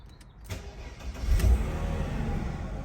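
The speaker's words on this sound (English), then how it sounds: "Starts right up." A Mercedes W124 car engine cranks briefly and catches, then settles into a steady low idle, heard close by with no talking.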